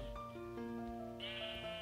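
Minecraft sheep bleating in a short, low-level burst of tonal calls within game background sound, no talk.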